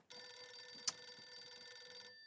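A telephone rings on repeat after a redial, its steady electronic tone holding nearly unbroken for about two seconds with one sharper click partway through, fairly clear with no talk over it.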